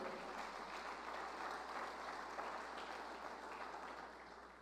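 A church congregation applauds together in a sustained wash of clapping that holds steady and then gradually fades toward the end.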